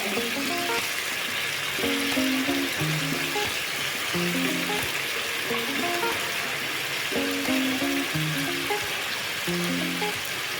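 Salt and spices frying in hot oil for a mixed fish curry, a steady close sizzle with soft stirring scrapes running throughout, no voices.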